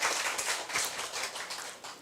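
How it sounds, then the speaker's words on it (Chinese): An audience at a talk applauds, a dense patter of many hands clapping at once, fairly soft and even throughout the two seconds. "來鼓掌一下。"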